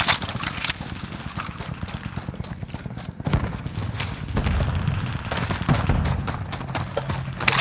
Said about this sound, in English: Machine gun here.